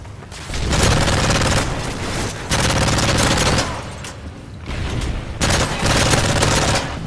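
Rapid bursts from a PP90 M1 submachine gun in Modern Warfare 3 multiplayer, several dense volleys of fast automatic fire close and loud, separated by brief lulls.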